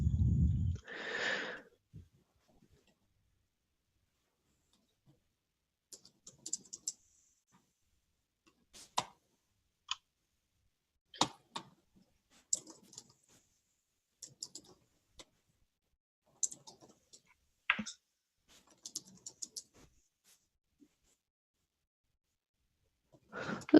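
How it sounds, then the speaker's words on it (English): Typing on a computer keyboard comes as scattered, irregular bursts of soft clicks and taps, separated by quiet gaps, after a brief low thump at the start. "I'll type to Michael"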